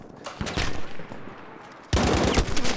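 Bursts of rapid Battlefield V gunfire, loud and close, with a brief lull before a heavier volley erupts near the end.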